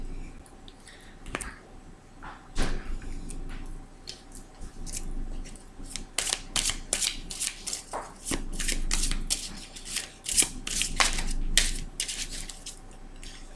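Tarot cards shuffled by hand ahead of a monthly reading, a steady run of soft riffling and sharp snapping flicks that grows busier and louder in the second half, with no voices.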